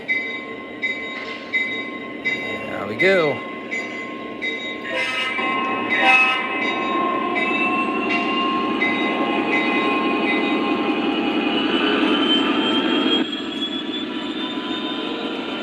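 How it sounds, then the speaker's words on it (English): An O gauge model train hums and rattles steadily along a layout, with a high whistle-like sweep early on and a brief spoken phrase near the start. "let's see if I can get this train going again real quick here."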